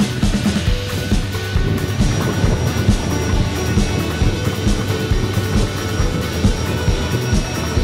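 A PC-7 propeller airplane landing at Buttwil Airfield in Switzerland, heard as a loud, steady engine drone with a constant propeller hum and rumble, continuous throughout and close to the listener, without speech.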